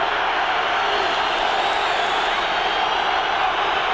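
Steady roar of a large football stadium crowd at the Detroit Silverdome during a Cowboys–Lions game, a dense, continuous wash of voices filling the space, loud and unbroken for the whole stretch.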